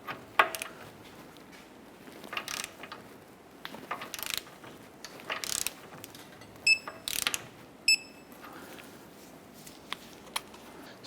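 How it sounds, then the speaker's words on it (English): A hand ratchet clicks in short, faint bursts while the lower ball joint nut on a 2008–2012 Honda Accord is torqued to 60 foot-pounds, with small metallic taps and clinks between strokes in a quiet garage. "Let's go ahead and torque the lower ball joint nut to 60 foot-pounds"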